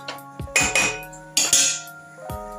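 A spoon scraping and clinking against a pan while buttermilk upma with coriander is stirred, in a few separate bursts of metallic clatter close by, with no voices.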